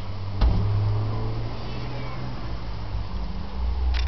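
Cats meow outdoors during rain, the calls brief and mid-level over a steady low rumble and patter of rainfall.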